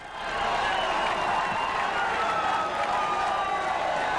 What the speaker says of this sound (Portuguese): A torcida brasileira, embora reduzida, vibrou.